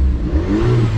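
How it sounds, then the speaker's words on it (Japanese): Alpine A110R engine in sport mode, revving up with a rising mid-pitched drone over a deep idle rumble, loud and close for about a second with no talk. "じゃあスポーツモード入れます。 ちょっと回転数上がります。"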